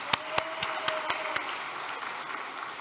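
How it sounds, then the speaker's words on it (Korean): A church congregation at a year-end thanksgiving service claps in thanks, the applause soft and somewhat distant, with a few sharper individual claps standing out above the steady patter. "감사의 박수를 올려드리겠습니다"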